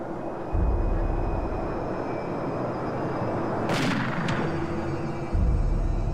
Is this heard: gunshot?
yes